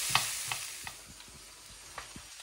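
Meat and onions frying in a hot pan for fajitas, with a utensil stirring them: a steady sizzle runs throughout, broken by several sharp scraping clicks at irregular intervals, close and clear, with no talking.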